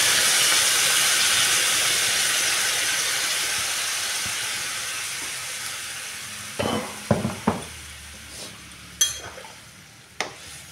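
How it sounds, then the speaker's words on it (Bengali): Hot water poured into a sizzling spice mixture in a pan gives a loud, steady steam hiss that slowly fades, followed by a few sharp utensil clinks near the end, with no voices. "এবার আমি জল দিয়ে দেবো। এটা আমি গরম জল করে রাখছিলাম।"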